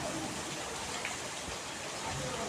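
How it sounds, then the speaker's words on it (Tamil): Heavy rain during a hailstorm pours down in a dense, steady hiss with no breaks, close and even throughout. "சரியான மழை"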